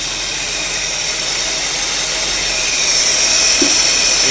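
Under the hood of a 1956 Cadillac Sedan DeVille, the power steering pump whines and the air cleaner draws air in a steady, loud, broadband hiss with a faint high tone, continuous and close throughout.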